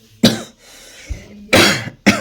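Two or three sharp, close coughs, separated by a brief breath-like pause, with no speech.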